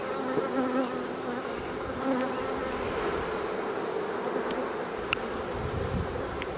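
Honey bees hum steadily around an opened, storm-damaged hive, a faint continuous buzz from several insects with no talking, broken by one brief click near the end.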